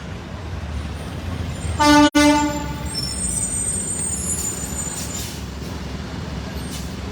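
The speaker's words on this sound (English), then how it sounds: "There's truck driver. Gave us a honk of approval." A passing truck sounds a loud, brief horn toot that rings out over steady roadside traffic noise, followed by the rumble of the vehicle moving on.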